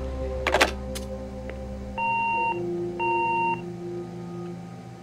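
In the game Gone Home, a clunk and click of an answering machine is followed by two clean, evenly spaced electronic beeps, each lasting about half a second, in an otherwise quiet room.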